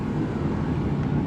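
A heater running steadily in a cold workshop where a tractor is being reassembled, a continuous low droning hum that stays even throughout.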